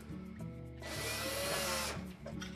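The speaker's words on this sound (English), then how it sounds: "We'll next install the screw on the left-hand side and the one on the right-hand edge." A power driver runs a screw into the sheet-metal cabinet of a Whirlpool dryer during blower fan replacement, giving one steady whirring burst of about a second between quieter handling noises.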